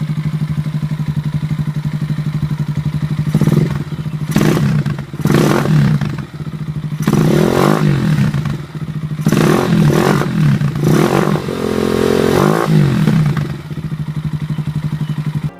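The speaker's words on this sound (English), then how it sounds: "Let's hear how an anemic single-cylinder Chinese bike sounds." An anemic single-cylinder Chinese motorcycle engine chugs at idle with a steady low thump, broken by several short revving bursts and clattery mechanical noise, loud and close.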